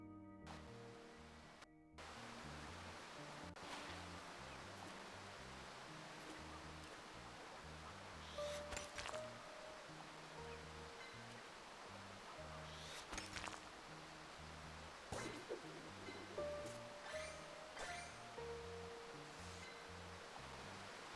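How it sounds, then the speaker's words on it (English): Steady rushing water from a video-game waterfall fills the scene continuously, with a few brief chimes and tonal game sounds popping up over it. "Now we return to the waterfall"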